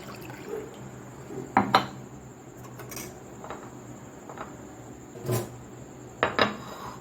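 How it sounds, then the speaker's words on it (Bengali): Coconut water poured into a glass for a chia seed drink, with a few soft liquid splashes and clinks of glass and utensils at irregular moments over quiet background. "প্রথমে ডাবের জলটা দিয়ে দিলাম"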